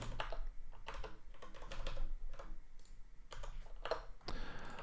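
Typing on a computer keyboard, close and rapid clusters of key clicks in uneven bursts with short pauses, ending in a louder clatter, no talk over it.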